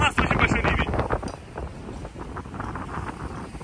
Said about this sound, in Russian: сейчас ветрище из-за этого волны, и море неспокойное